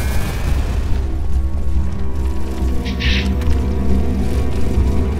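A deep boom rolls out as a jammer is destroyed in the Halo Reach video game, a loud sustained low rumble with a brief hiss burst partway through under continuous game noise.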